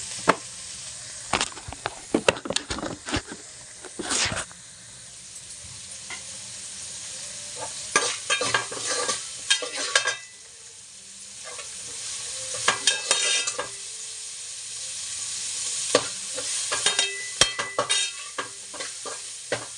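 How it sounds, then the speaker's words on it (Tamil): A sprig of curry leaves and green chillies frying in oil for a lake fish curry, crackling and sizzling close by while a spoon stirs and scrapes in repeated bursts. "ஒரு கொத்து கருவேப்பிலை வதக்கிடும். அதில் நம்ம பச்சை மிளகாய் போட்டுக்கலாம்."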